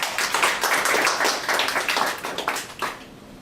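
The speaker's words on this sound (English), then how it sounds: "Let's have a round of applause." A small lecture audience claps to welcome an alumni anthropology speaker, distinct individual hand claps coming in uneven bursts that fade toward the end, fairly close and without talk.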